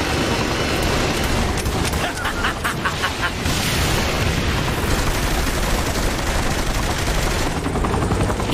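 An attack helicopter and rapid gunfire in Saints Row: The Third Remastered, a dense loud wash of rotor noise, machine-gun bursts and explosions running continuously without a break.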